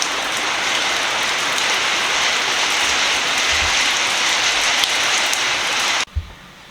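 Heavy rain pours steadily onto a carport during a storm, a loud, dense, continuous hiss that holds for about six seconds and then cuts off abruptly, leaving near silence.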